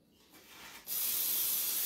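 An aerosol can of cooking spray sprays onto a baking tray in a steady, bright hiss that starts abruptly and continues for about a second, close by.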